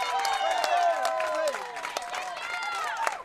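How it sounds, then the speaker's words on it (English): Softball crowd at a Manatee home game cheering and applauding after a run is scored, a steady wash of clapping and excited voices with a few whistle-like shouts throughout. "This Manatee crowd is fired up"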